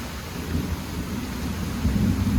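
Thunder rumbles steadily through a rainstorm in Australia, the low roll swelling louder toward the end over a continuous wash of rain.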